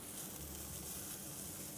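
Ptarmigan liver frying in a pan alongside browned breast, stomach and heart, giving a steady, continuous sizzle, close and even throughout with no talk.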